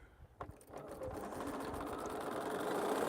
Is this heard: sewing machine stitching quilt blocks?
yes